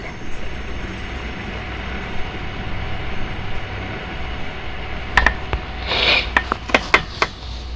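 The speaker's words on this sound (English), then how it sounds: "the freight cars were full, and the train rolled its way down the line" A long freight train with full cars rolls down the line in a continuous low rumble, joined near the end by a cluster of sharp clicks and metallic squeaks.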